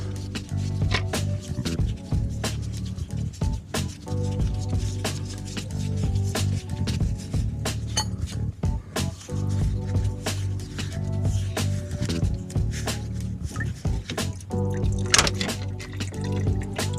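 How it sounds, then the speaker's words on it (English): Fuel dripping and trickling from a Volvo 940 fuel filter as it is unscrewed, with steady liquid pattering and splashes mixed with scattered metallic clicks and handling noises, close and continuous throughout. "Alright, so now the fuel filter should unscrew."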